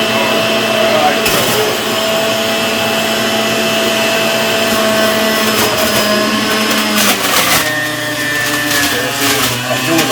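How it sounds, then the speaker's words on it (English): A blender running on high while making Jamaican-style carrot juice, a loud, steady whirring motor drone with a constant pitch and grinding texture, lasting throughout with a slight shift in tone partway through. "I'm going to start at my blender here now."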